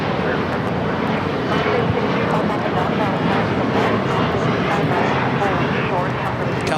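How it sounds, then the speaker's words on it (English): Heavy Boeing 777 jets, including a 777 freighter, taking off at LAX, a dense continuous engine roar at steady loudness throughout, with a voice talking over it. "So those 2 heavy takeoffs"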